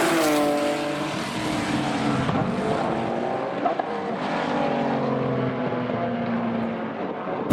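A Ford GT40 race car sweeps past on the Donington circuit during a track day, its engine note loud and sustained, rising and falling in pitch as it passes, with no talk over it.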